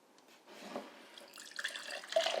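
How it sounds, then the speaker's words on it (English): Water trickles and splashes from the spigot of a ZeroWater 10-cup filter pitcher into a container, starting faint and growing a bit fuller, like a stream running from a spout. "You can either pour or use the spigot to get clean water."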